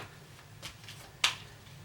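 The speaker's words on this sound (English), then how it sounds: "It's kind of a mess of a shuffle, but it's working." A few soft, scattered card sounds, quiet brushing then one sharp snap of cards being handled, near and sparse.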